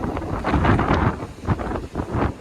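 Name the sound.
strong wind blowing by the sea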